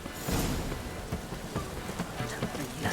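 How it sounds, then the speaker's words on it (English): Steady rainfall in The Witcher 3 hisses throughout, with scattered patters of drops and faint low rumbles, moderately quiet with no speech. "Looks like rain."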